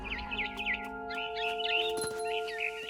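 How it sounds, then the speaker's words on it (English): A barn swallow chirping in short repeated bursts over steady sustained electronic tones, in the video game What Remains of Edith Finch. "Then I heard chirping outside my window."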